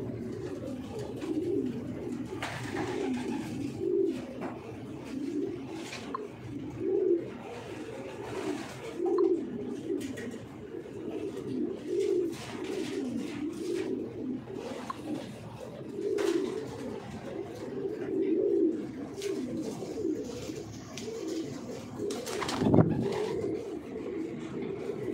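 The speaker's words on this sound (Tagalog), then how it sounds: "Mga kalapatids" Racing pigeons cooing at a loft during a training arrival: a steady, overlapping chorus of low, throaty coos that runs throughout, fairly close, with one louder burst near the end.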